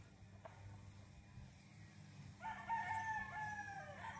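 A young stag gamefowl rooster crows once, loud and close, starting partway through over a steady low background hum.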